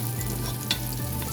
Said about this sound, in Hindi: हमने जो प्याज चॉप करी है वो डाल देंगे। और इसको थोड़ा हम गोल्डन ब्राउन करेंगे